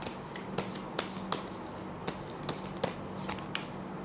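A deck of tarot cards is shuffled close by in short, crisp riffles and taps, roughly ten quick bursts repeating at an uneven rhythm over a soft background hum.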